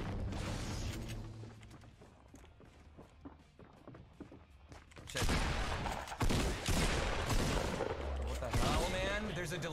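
Fortnite Desert Eagle and shotgun fire, sharp booming shots that crack loudly in the second half after quieter footsteps and movement, under game noise.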